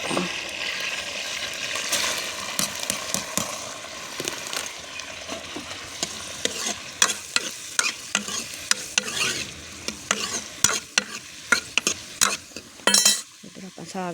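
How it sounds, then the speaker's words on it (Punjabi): Loud sizzling of a tempering frying in a metal wok with frequent scraping and clanking of a stirring spoon, busy and close. "ਤੜਕਾ ਡਿਆ ਭੁੱਜਣ ਇਹ ਕੜਾਈ ਦੇ ਵਿੱਚ"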